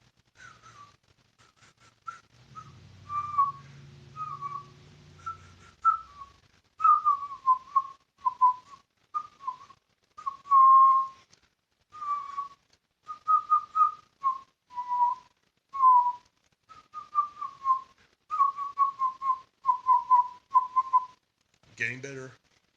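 A person whistles a lively tune in short, repeated notes, close and clear, with a brief low rumble early on and a sharp noise at the end.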